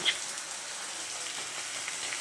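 Boiragi fish frying in a pan gives an even, steady sizzle and crackle throughout, close and moderately loud, with no one speaking.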